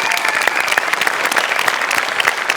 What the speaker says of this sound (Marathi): एकदা बाबांसाठी जोरदार टाळ्या जाऊ देतात.